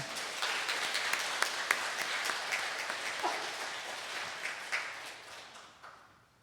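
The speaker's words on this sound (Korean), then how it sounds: "우리 사목 회장님을 앞으로 큰 박수와 함께 모시겠습니다" Congregation applause in a Catholic parish church, welcoming the parish council president to give the homily on Laity Sunday; sustained even clapping from many hands that gradually fades at the end.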